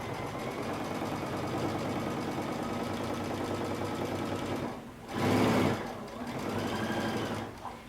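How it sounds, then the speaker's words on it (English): A sewing machine stitches close to the edge of a coat, a steady close whirring run of quick needle strokes for several seconds, broken by a short burst of louder noise before the stitching resumes. "we're going to sew really close to that edge"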